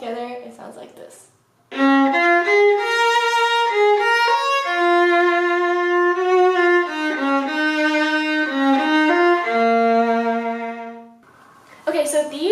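A solo viola plays the melody of a song in clear, sustained bowed notes stepping through the phrase, loud and close, with a few seconds of other sound at the start and end.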